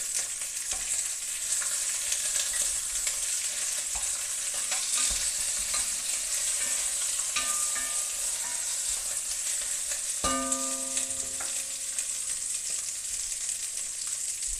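Coconut chicken sizzling steadily in a pan on lowered heat while a wooden spoon stirs it, a close, continuous frying hiss with soft scraping strokes and a brief clink near the end, no voices.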